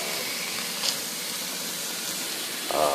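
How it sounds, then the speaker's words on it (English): Top sirloin steaks sear on a hot grill with a steady, even hiss of sizzling fat running throughout, briefly flaring louder near the end. "So the goal here is really just to sear the edges"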